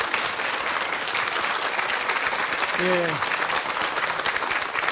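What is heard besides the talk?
audience applause welcoming the doctor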